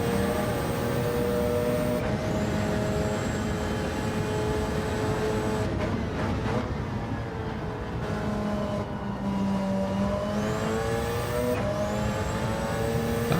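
Race car engine in a racing sim during endurance race practice, a continuous loud high-revving drone that climbs and drops through gear changes as the throttle is feathered, with no talking.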